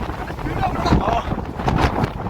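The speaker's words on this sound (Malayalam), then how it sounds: "കാറ്റ് കൂടി, നല്ല കാറ്റ് കൂടി" A strong wind rushes across the open hilltop at Chathuranga Para, roaring continuously against the microphone in close, loud gusts while people talk faintly underneath.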